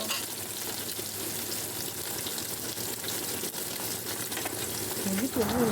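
Mustard and yogurt paste frying with spices in a pan, a steady close sizzle with faint stirring, and a voice briefly near the end.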